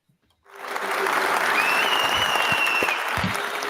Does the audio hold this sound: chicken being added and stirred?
no